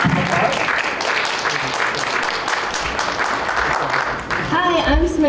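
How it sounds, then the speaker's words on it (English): A school audience at a middle school digital learning day applauds, dense clapping filling the whole stretch with steady loudness, a few voices and cheers mixed in near the end. "Let's have a round of applause."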